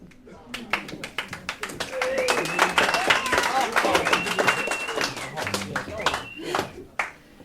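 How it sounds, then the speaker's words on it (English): Applause and scattered whoops from a small crowd at a live rock gig in a pub venue, sharp individual claps near at hand, with shouting voices and talk mixed in. "That was applause"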